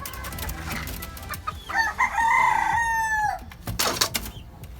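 Boston breed hen and chicks: a drawn-out, strained crowing call rises near the middle, with scattered clucks and peeps and scratchy movement around it. The sounds are fairly close, and no one speaks.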